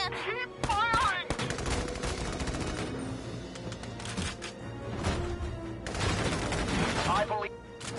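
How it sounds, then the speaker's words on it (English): Gunfire rattles through a Valkyria Chronicles 4 battle, with dense bursts of rifle and machine-gun shots sustained over several seconds, loud and busy, with a voice and other game sounds mixed in underneath. "Found them. Keep firing!"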